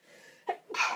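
A single sharp sneeze bursts out mid-clip, close and fairly loud, with a breathy intake before it and a second noisy burst of breath or throat sound right after, in an otherwise quiet indoor setting.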